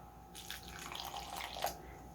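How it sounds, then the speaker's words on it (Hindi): Water pours into a bowl of onion paratha batter seasoned with crushed red chilli and green coriander, a soft, fairly faint splashing trickle lasting under two seconds in a quiet kitchen. "पानी ऐड करेंगे।"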